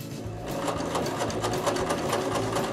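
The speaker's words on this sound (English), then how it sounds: "we're going to keep that stitch nice and even" A sewing machine runs steadily, stitching bias tape along the edge of a fabric apron, its rapid mechanical chatter loud and close for the whole stretch with no talking.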